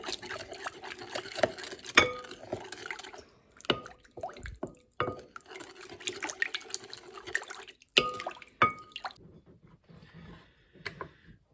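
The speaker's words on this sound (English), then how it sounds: "And then we start by stirring this all together." Sourdough mixture with avocado oil stirred in a bowl, giving wet, sticky clicks and irregular scraping taps that come in bursts with short pauses, close and fairly quiet.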